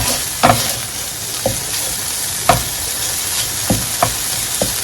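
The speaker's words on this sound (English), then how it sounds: "The oil in the corned beef is going to saute this corned beef by itself" Corned beef sautéing in its own fat in a pan, a continuous sizzle broken by several sharp scrapes and stirs of a utensil against the pan, no talking.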